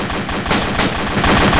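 Rapid bursts of automatic gunfire crackle through a military shooter game, ArmA 2 with the ACE mod, at a bridge, repeated loud shots in a dense, continuous volley.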